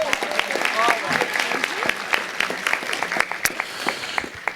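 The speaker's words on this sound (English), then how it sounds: "Please give her a nice round of applause" Audience at a Las Vegas city council ceremonial meeting applauding an honoree, a steady burst of clapping with sharp individual claps standing out, moderately loud and sustained.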